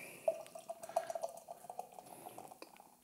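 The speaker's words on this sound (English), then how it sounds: "let's open it and pour it into a glass." Beer, Grantler Hell from Schlossbrauerei Herrngiersdorf, pours from a can into a glass with soft splashing and fizzy dripping that continues for about three seconds, close but quiet.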